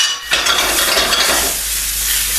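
Lamb shanks sear in hot oil in a pan, giving a loud, steady sizzle and crackle close by, with a little stirring and no voices.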